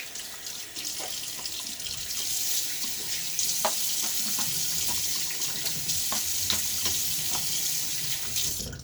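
Water runs steadily from a bathroom sink tap while a face is rinsed after a wet shave with a Gillette safety razor, a close continuous hiss with occasional splashes and no talk.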